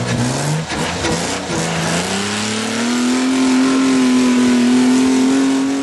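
A 4x4 off-road vehicle's engine revs hard as it strains up an incline at the Maxxis National 4x4 Challenge 2011 in Rayton, with a steady rising drone that climbs in pitch and holds loud and close.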